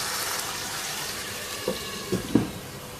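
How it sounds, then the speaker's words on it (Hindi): A quarter cup of water is poured into a pan of chicken that is cooking, giving a steady splashing wash with a few brief louder splashes near the end; no one talks. "1/4 प्याली पानी की डाल देंगे।"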